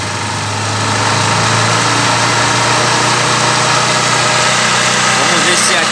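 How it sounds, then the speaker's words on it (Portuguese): Honda CG 150 Sport motorcycle engine running and revving up, a steady loud mechanical drone that rises slightly after the first second and holds, with a voice in the background. "Agora vamos acelerar um pouco mais."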